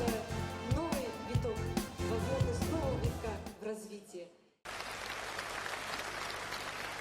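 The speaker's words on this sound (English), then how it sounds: "Please welcome Mr. Mikhail Sergeyevich Gorbachev with your warmest applause" Music with a singing voice plays, then cuts out briefly before a burst of steady crowd applause for Mikhail Gorbachev takes over and continues loudly to the end, at a TIENS anniversary celebration in Moscow.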